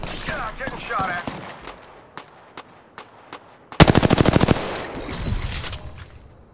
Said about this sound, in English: Yeah, I'm getting shot at.